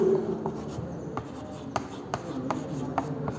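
Writing on a board, with steady scratchy strokes and several sharp taps spaced through a few seconds, close and moderately quiet.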